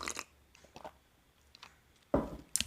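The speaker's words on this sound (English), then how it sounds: "Sorry about the noise, slurping noise" A few short, soft slurps of tea sipped close to the microphone, scattered in a quiet room, ending with two sharper, louder sips.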